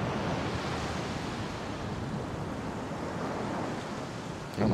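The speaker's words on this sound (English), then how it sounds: "So the water is draining in the fountain." Water draining from a fountain in Resident Evil HD Remaster, a steady loud rushing wash with no talk, ending in a brief louder burst.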